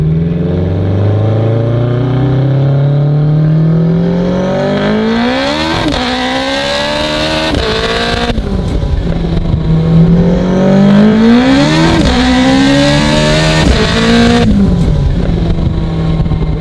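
A 1000-horsepower all-wheel-drive Honda RSX pulls hard on low boost, its loud engine note climbing through repeated gear sweeps with brief dips at each shift, heard from inside the car.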